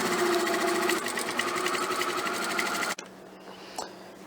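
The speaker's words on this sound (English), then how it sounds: "Now that our scrub cap is sewn, we've sewn across this end." A sewing machine stitches a fabric scrub cap, a dense, steady rapid whir for about three seconds that stops abruptly, followed by quiet room noise and a small click.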